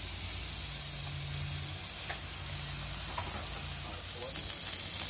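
Cheese stuffed burger sizzling on a hot griddle, a continuous close hiss of frying fat with a few scraping touches, steady and alone without talk.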